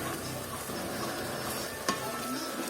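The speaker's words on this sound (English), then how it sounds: "So let's stir it, guys." Tomato base for a Nigerian chicken and fish stew stirred in a pot, a steady close sizzle with one sharp scrape of the spoon partway through, no talk.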